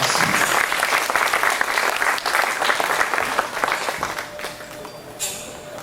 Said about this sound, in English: would everyone please give these exhibitors a round of applause